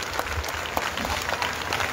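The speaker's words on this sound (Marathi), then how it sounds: "तिचं आपण टाळ्या वाजवून सर्वांनी या ठिकाणी अभिनंदन केलं पाहिजे." An audience at a community felicitation event applauds steadily, with dense, continuous clapping at close range that neither builds nor fades.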